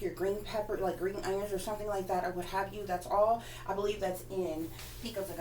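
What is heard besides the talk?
No everyday noises stand out.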